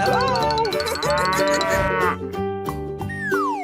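A cow moos loudly and close, a long drawn-out bellowing call with a rising, wavering pitch that dominates, followed by a shorter lowing phrase.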